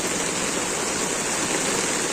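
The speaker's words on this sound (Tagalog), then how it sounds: "Oy, lakas ng ulan." Heavy rain pours down during a flood rescue on a road where a stranded car sits in rough water, making a dense, unbroken loud hiss with no pauses.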